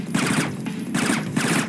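Gunfire in the stealth game Splinter Cell, three quick bursts of suppressed shots at close range in a steady rhythm.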